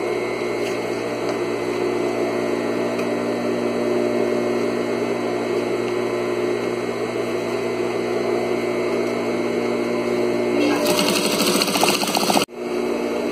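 Sewing machine running steadily while stitching a fabric table runner with ruffles and pleats, a continuous close mechanical whir with no talk, ending in a brief faster burst before stopping.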